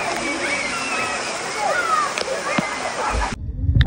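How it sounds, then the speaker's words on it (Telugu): Water rushes at Buttermilk Falls in Chikmagalur, a constant broadband roar of falling, splashing water close by, with a voice speaking over it before the sound cuts off near the end. "సేమ్ లైక్ బటర్ మిల్క్, అందుకే దీన్ని బటర్ మిల్క్ వాటర్ ఫాల్స్ అంటారు."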